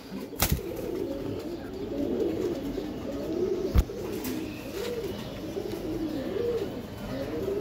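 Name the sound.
racing pigeons cooing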